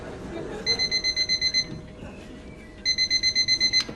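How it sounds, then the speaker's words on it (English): An alarm clock ringing in two bursts of rapid, evenly pulsed electronic beeping, loud and close, separated by a short pause with faint room noise. "Despite an apparently foolproof alarm clock system, even Bean can oversleep"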